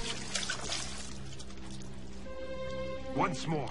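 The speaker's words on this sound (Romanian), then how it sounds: "Nu se poate de vărsat apa așa în zadar." Water pours and splashes briefly under steady background talk and a low hum, with a gurgling trickle near the end.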